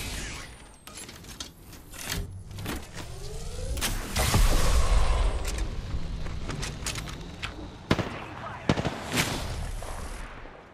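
Gunfire in Apex Legends, sharp cracks and rattling bursts scattered throughout amid rumbling explosions and game noise, loud and close, with a voice talking over it.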